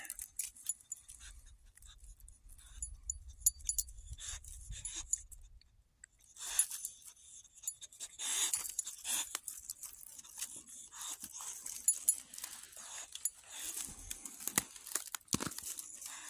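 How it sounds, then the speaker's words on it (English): A small puppy pants and lets out soft whimpers outdoors near water, mixed with crinkling, rustling and jangling sounds that come and go unevenly over several seconds. "She is such a precious puppy."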